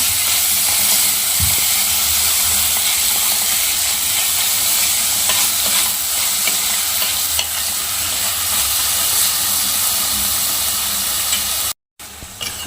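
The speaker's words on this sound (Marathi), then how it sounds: "तो पण चांगला मऊ पडेपर्यंत आपण परतून घेऊया" Chopped tomato sautéing for misal, a loud, continuous close-up sizzle and hiss with faint stirring scrapes, steady for about twelve seconds before a brief dropout near the end, no voices.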